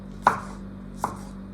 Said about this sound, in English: Roughly chopping it, it doesn't really matter.